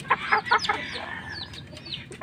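Chickens, gamecocks of a prized bloodline with one coughing and showing a cold, cluck in a rapid burst of several close, loud calls, then quieter scattered clucks follow.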